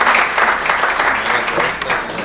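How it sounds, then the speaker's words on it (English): An audience at a New Year celebration and opening ceremony of a Kashmiri American community group gives a loud, close round of applause, dense and sustained throughout with a slight murmur beneath. "round of applause, please."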